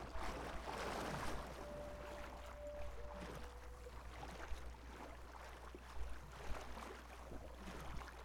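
Shallow-water splashing in the video game Red Dead Redemption 2, a steady wash of watery movement with a few louder splashes near the end, heard alone over a low constant hum.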